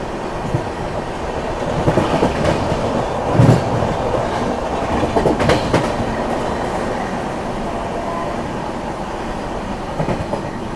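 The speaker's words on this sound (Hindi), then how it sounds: "ये रही बांद्रा टर्मिनस बरौनी अवध।" Bandra Terminus–Barauni Awadh Express passing, continuous clickety-clack of wheels and rolling rumble close by, with a few louder knocks and faint squeals along the way.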